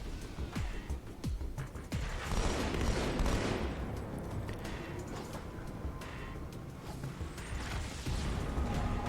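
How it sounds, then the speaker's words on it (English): Dense, sustained gunfire from a battle rifle mixed with plasma grenade blasts in Halo 2, a loud, continuous barrage of overlapping shots and bursts with crashing impacts that swells around the second mark and stays intense throughout. "get a couple of shots off if you can with the battle rifle"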